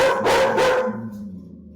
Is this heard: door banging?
no